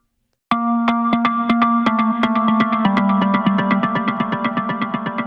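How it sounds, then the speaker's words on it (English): A deep progressive house synth lead plays rhythmic repeated notes, each one trailing into a washy, diffuse reverb tail that smears the sound into a lingering shimmer. "It's basically like a reverb tail that you get with this."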